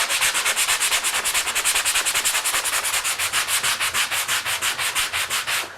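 Rhythmic scrubbing of residue off a pan surface, quick back-and-forth abrasive strokes repeating about four times per second, close and steady for several seconds with no voices.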